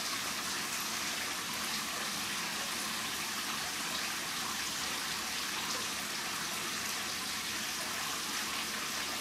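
Cold water runs steadily over curly hair during a rinse, a continuous close rushing wash that holds an even level throughout, with no voices.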